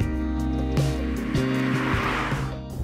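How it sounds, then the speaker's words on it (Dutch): A 2014 Toyota Aygo's 1-litre three-cylinder engine revs up and drops back in steady swells, its raspy harmonic drone loud and close for a few seconds with no talk. "dan hoor je wel die lekkere 3 cilinder snerp"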